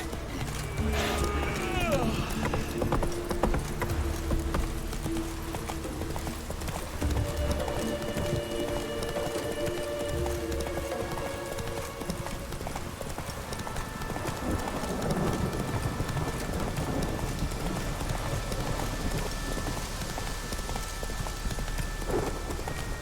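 Horse hooves gallop in The Witcher 3, a continuous rhythmic clip-clop running the whole time amid game ambience and music, steady and fairly close.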